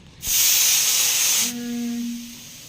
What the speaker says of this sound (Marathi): तर इकडं माझं आता कुकर लावलं आहे